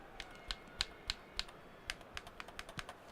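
A dozen or so sharp, light plastic clicks from a game controller's analog stick in an uneven quick sequence, close by and fairly quiet, with no talking.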